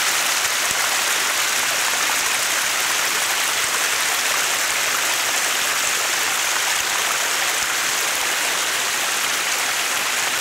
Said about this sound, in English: Isn't this a beautiful waterfall? There's a little rivulet coming down through the mountain.